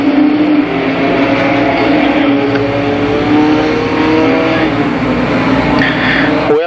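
Limited Sportsman race cars on an oval track roar steadily at high revs, a loud continuous pack of engines that swells and surges without a break.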